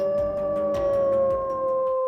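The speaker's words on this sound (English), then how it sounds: "the predator raised its head to the sky and howled long and mournfully" A wolf howls long and mournfully, a single sustained, steady wavering tone that fills the whole stretch, loud and unbroken, with no other sounds around it.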